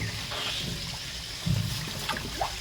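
Water runs steadily at a pond during a fish release, a close trickling and splashing stream with a couple of louder gushes.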